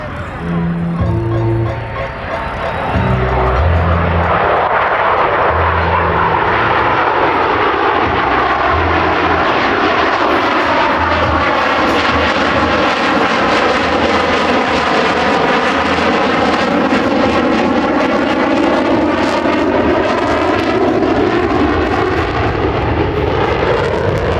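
A U.S. Navy Blue Angels F/A-18 Super Hornet jet makes a loud pass at an air show. Its engine roar builds and sweeps by steadily, with a pitch that shifts and falls, while crowd and announcer sounds sit faintly beneath it.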